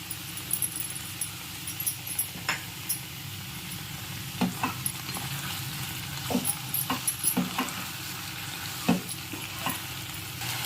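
Brinjal and mango curry sizzling in a pan with tomato puree, a steady low frying hiss broken by scattered sharp clinks and scrapes of a spoon stirring.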